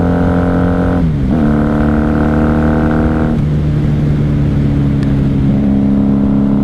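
A 1994 Honda Magna 750 VF750C motorcycle engine revs loudly and steadily up close, its pitch dipping briefly between climbs, with constant engine drone throughout.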